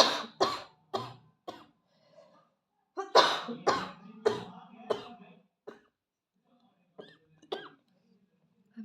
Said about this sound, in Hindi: एकदम से खाँसी आ गई मुझे